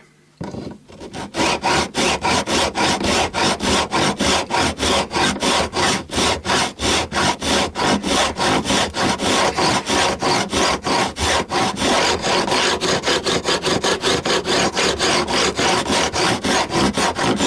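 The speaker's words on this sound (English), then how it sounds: "Jumping ahead a bit here, you can see I've fretted this neck. Whew, and now I'm beveling the edge." A file rasps steadily across the fret edge of a fretted Stratocaster-style guitar neck during beveling, a loud, continuous run of rapid rhythmic strokes with no talking.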